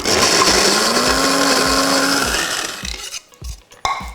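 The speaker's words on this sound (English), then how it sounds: "So I'm going to put my spices and my coconut back into my grinder" Electric spice grinder running loud and steady, blending garlic cloves, coconut and spices into a paste, the motor pitch holding then stopping around two and a half seconds, followed by short rattling bursts of the blade and contents.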